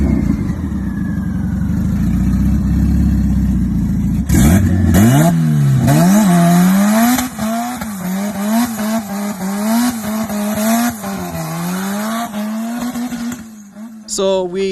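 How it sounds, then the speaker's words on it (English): A Toyota Altezza with a 3S-GTE engine and new exhaust idles with a throaty burble, then revs hard repeatedly, rising and falling in sharp bursts, loud and close. "He recently got the exhaust sorted out. Car sounds totally different."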